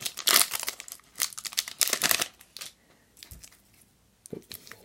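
A Pokémon Unbroken Bonds booster pack wrapper crinkles and tears open close up in several sharp bursts of foil rustling, then goes quiet before a last brief crinkle.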